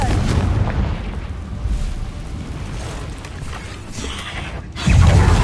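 A Confringo blasting spell in Hogwarts Legacy inside a cave, with a steady low rumble building to one sudden heavy blast near the end.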